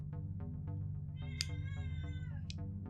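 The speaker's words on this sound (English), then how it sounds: "There's a kitty cat here. Oh, and she wants attention." A cat meows repeatedly up close, a series of short and drawn-out calls over a steady low hum.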